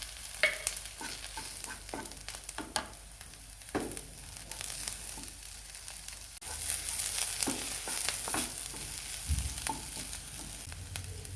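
Curry leaves hit hot oil in a pan and are stirred. A crackling sizzle runs under repeated scraping spoon strokes, and the frying grows louder midway through.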